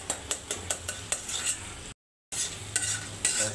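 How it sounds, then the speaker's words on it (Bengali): Food being stirred and mixed with spices in a pan, a run of sharp utensil scrapes and clinks over a soft sizzle, close and fairly loud, cut by a brief silent gap before stirring resumes. "তারপরে মশলার সাথে মিশিয়ে দেবো।"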